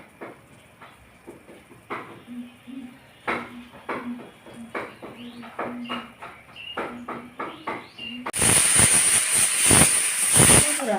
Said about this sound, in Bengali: আমি প্রেশার কুকারে তিনটা সিটি দিয়ে নিব